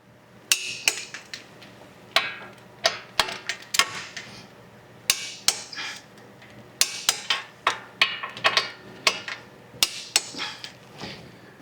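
A torque wrench set to 79 foot-pounds works on a car's front brake job, producing a steady series of sharp, close metallic clicks at an even pace, with no talking.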